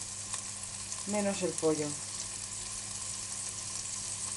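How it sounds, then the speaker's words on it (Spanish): Raw ingredients, everything except the chicken, sautéing in a small amount of oil for chicken in apple sauce, giving a steady soft sizzling hiss throughout while a person speaks briefly. "En muy poquito aceite. Rehogaremos todos los ingredientes"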